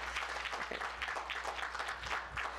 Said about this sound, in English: and that's worthy of an applause right there.